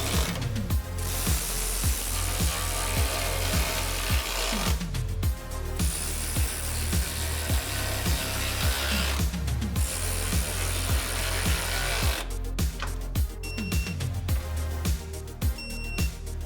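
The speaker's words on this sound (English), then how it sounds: "Tighten all 4 bolts down with a 15mm and then torque them down to 32 foot-pounds." A ratchet wrench with a 15mm socket tightens skid plate bolts on a 2010-2014 Ford F-150 Raptor, rapid clicking pawl strokes in bursts separated by brief pauses, close and clear with no talking.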